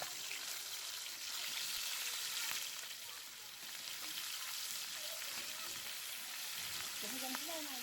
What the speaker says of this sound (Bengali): প্রথমে আমি মাছের মাথাটা ভেজে নিব, সেজন্য কড়াইয়ে একটু তেল দিয়ে দিয়েছি।